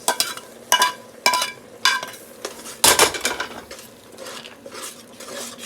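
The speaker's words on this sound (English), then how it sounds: "Let's get all my cheesy sauce out of the pan too." A utensil scrapes cheesy sauce out of a pan, giving a run of sharp, close metallic scrapes and clinks in irregular bursts with no talking.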